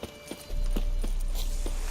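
Horse hooves clip-clopping in the video game The Witcher 3, a steady rhythmic trot of close, distinct hoof strikes that starts about a half second in over a loud low rumble, with no talking.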